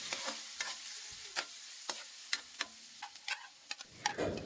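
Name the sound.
sautéing hotdog with garlic and onion in a pan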